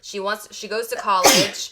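A single sharp sneeze bursts out right after a short bit of speech, loud and close.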